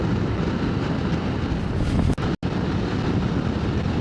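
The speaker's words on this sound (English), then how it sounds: "I suppose this is why it's so windy" Steady, loud coastal wind near Llandudno, Wales, buffets the microphone throughout, a continuous roaring rush with a brief dropout near the middle.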